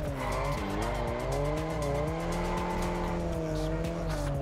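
A car drifting with the handbrake in Test Drive Solar Crown, a loud revving engine with rising and falling pitch under sustained tire squeal, close and continuous.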